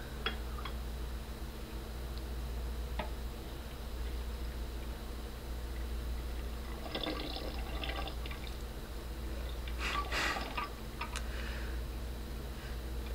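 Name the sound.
pouring lemon and orange juice into a bottle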